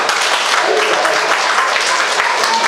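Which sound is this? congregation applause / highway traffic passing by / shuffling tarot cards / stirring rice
congregation applause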